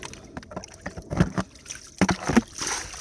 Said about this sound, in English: So I'm just scooping the water out.